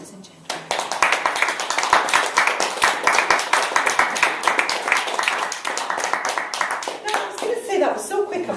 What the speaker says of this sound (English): So, another round of applause while they do that.